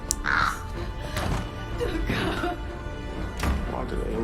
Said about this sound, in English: there's a ghost crow.